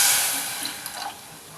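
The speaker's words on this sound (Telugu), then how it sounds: "కొంచెం వాటర్ వేసుకుందాం" Water poured from above into a pan holding a cup of sugar on the stove, starting a sugar syrup for ghevar; a steady, close splashing pour that gradually eases off over about a second and a half, with no voices.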